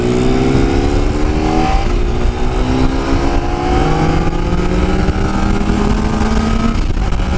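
A motorcycle engine roars while riding on highway RS-122 with cold tyres, loud and close, its pitch climbing and dropping through gear changes as the bike accelerates continuously.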